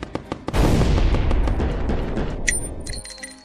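A loud gunshot blast in the Roblox game Brookhaven rings out and decays into a rumbling tail, preceded by a few light clicks and followed by brief higher chimes near the end.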